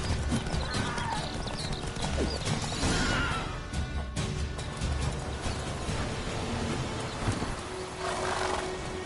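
Roach, the horse from The Witcher 3: Wild Hunt on PS4 Pro, neighs loudly over steady galloping hoofbeats and rushing movement that fill the whole stretch.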